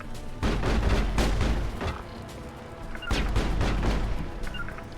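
Mass Effect gunfire: a sustained rattle of rapid shots and blasts that swells, eases slightly and swells again, loud and close with no voices over it.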